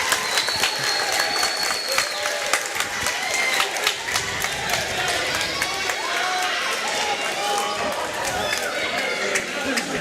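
A packed high school gym erupts as a West Virginia girls' basketball game ends with a home win, dense cheering, whooping and sustained applause filling the space loudly and continuously, with shouting voices mixed through the roar.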